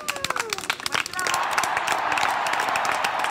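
A children's group applauds after an archaeology-themed activity, the clapping building from scattered claps into a loud, sustained burst of group applause with some crowd noise.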